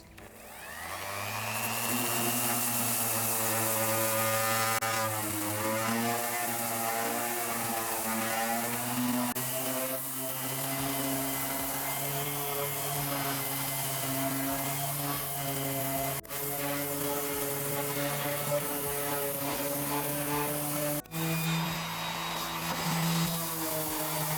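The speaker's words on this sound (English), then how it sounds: "This is my mouse sander, my detail sander." Mouse-style detail sander working on wood furniture with P180 paper, a steady buzzing whine after switch-on that holds for the whole stretch with slight pitch wobbles, fairly close and alone.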